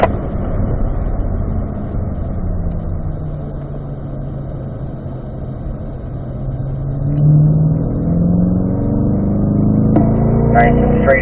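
A race car accelerates out of a corner on the Ron Fellows circuit, its engine note a steady droning growl that swells and climbs in pitch near the end, heard from inside the car while an instructor's voice talks over it.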